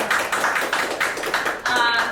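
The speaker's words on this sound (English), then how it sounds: "Let's give a round of applause for that" Audience applause for a revitalization project announcement at an Albany mayoral event, heard as several bursts of hand clapping, fairly close and steady, fading briefly before swelling again.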